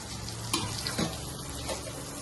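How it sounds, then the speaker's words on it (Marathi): Steady close sizzling of prawns frying in hot oil, a dense crackling hiss with a couple of brief clinks, no voices. "सुंगटां फ्राय जाता."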